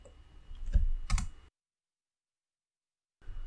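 Typing a terminal command on a computer keyboard: a short burst of close, crisp key clicks that stops abruptly into silence, with a faint tap returning at the very end.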